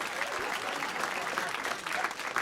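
Comedy club audience applauding during a stand-up set, a steady wash of clapping that holds at an even level for the whole stretch, with no speech over it.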